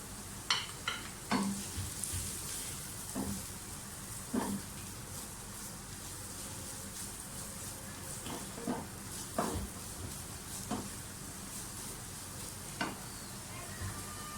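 Carrots fry in a pan at a low, steady sizzle, with intermittent sharp scrapes and knocks of a spoon stirring them at irregular intervals, close and fairly quiet.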